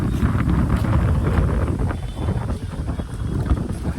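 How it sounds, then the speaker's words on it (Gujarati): Strong wind on the road between Rajkot and Ahmedabad roars and buffets the microphone in a loud, continuous rumble with gusty fluctuations. "પવન તો જો"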